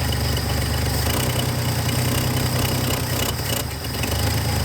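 An old high-mileage farm truck engine idles close by, its split exhaust manifold adding a raw, ticking, leaky edge to the steady low rumble, with no talking.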